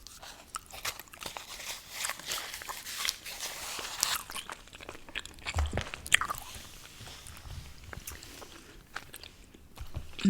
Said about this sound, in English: I am going to be doing some gum chewing.